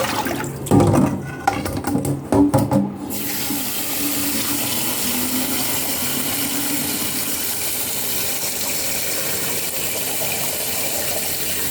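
Tap water runs as herbal wood pieces are washed under it, with splashy knocks and clatters for the first few seconds before a steady rushing stream continues alone.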